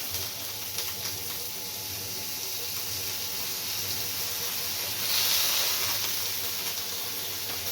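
Butter sizzling and melting in a hot pan while paella is made, a steady close hiss with a brief louder surge partway through and no one talking.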